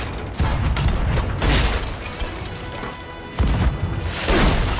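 Ship cannons fire during a close naval fight in the pirate game Sea of Thieves: about four heavy, crashing blasts land at uneven intervals, loud and near, with a noisy rumble between them.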